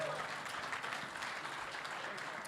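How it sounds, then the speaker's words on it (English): An audience applauds after a presentation at a hackathon finals event, steady clapping from a crowd, moderately loud and continuous, with a voice speaking over it. "Round of applause for that presentation."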